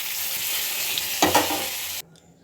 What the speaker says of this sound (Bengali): পটলগুলো একটু লাল লাল করে ভেজে তুলে নিয়েছি